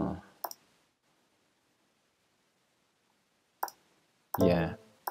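Computer mouse clicks in an online chord player, a few sharp isolated clicks separated by near silence, with a short burst of speech near the end.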